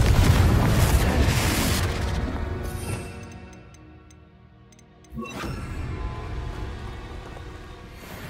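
The Confringo blasting spell in the Hogwarts Legacy video game lands with a loud booming burst that decays into quiet with faint ticking, then a second sharp impact hits and leaves a sustained rumbling tail.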